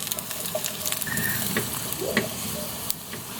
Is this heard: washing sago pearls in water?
no